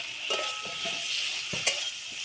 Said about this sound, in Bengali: আদা জিরে বাটা আছে, এটা দিয়ে দেবো।